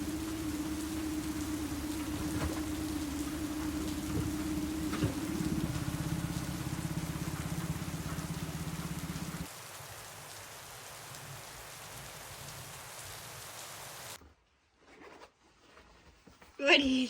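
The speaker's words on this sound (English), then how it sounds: "it's just a little rain" Steady rain falling on a home on the water, a constant close patter and hiss with a low hum beneath that drops away partway through, then near silence with a few brief rustles at the end.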